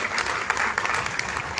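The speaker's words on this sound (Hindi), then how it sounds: "जोरदार तालियां आपके लिए बजाएं।" Loud applause from an audience at a Vaishya community conference and honour ceremony in Lucknow, a dense, continuous clapping that fills the whole moment.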